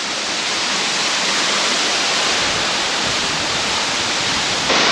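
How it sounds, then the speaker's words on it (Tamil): Zenith Waterfalls near Pune in the monsoon pours with a dense, continuous rushing roar, loud and unbroken from start to finish. "falls bro"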